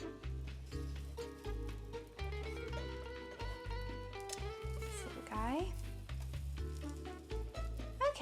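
Egg-dipped chocolate French toast fries in a pan with a soft, steady sizzle running beneath background music and a person talking.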